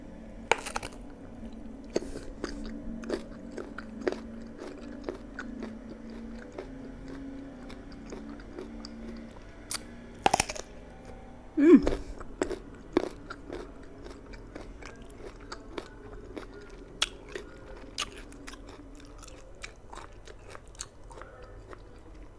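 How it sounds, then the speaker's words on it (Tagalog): Crunchy sour green mango is bitten and chewed close to the mic, with sharp repeated crunches over wet chewing and a few louder bites midway, no talking. "Bago yung mango, super crunchy."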